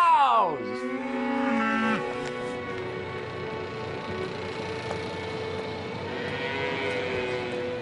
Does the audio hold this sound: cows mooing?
yes